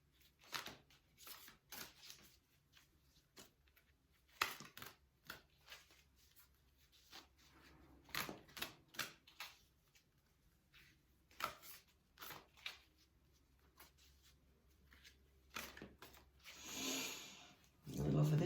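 Tarot cards are shuffled by hand in a quiet room, with soft irregular riffling and rubbing bursts and short pauses between handfuls.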